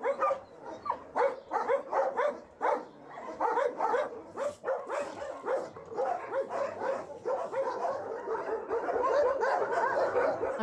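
Many dogs barking and yipping together in a Romanian shelter kennel of about 130 former street dogs, a busy, echoing chorus of overlapping bursts that grow into a dense, continuous din.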